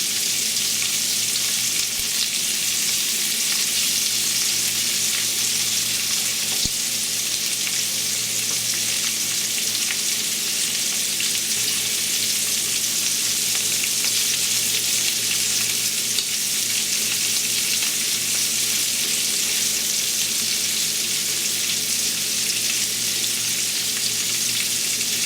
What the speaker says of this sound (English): It doesn't take long to cook shrimp.